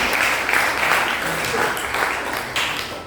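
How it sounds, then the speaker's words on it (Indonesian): Classroom students give a round of applause for a classmate named Felicia, a loud, dense burst of clapping that fades slightly toward the end. "tepuk tangan untuk Felicia"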